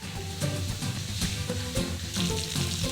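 Pork belly grilling, a close, steady crackling sizzle of fat with irregular pops and spits running throughout, moderately loud and with no voices.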